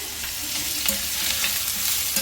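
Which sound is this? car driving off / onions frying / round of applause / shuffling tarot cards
onions frying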